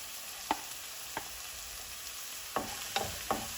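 Chopped onion and spring onion bulbs sizzle steadily in a pan for chicken samosa filling, broken by several sharp clicks of a spoon stirring against the pan.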